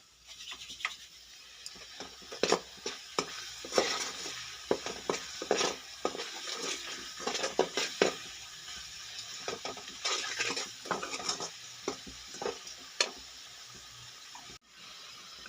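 Meat sautés with salt in a pot for aloo gosht, a spoon scraping and stirring in irregular bursts over a soft sizzle, close and moderately loud, with no voices.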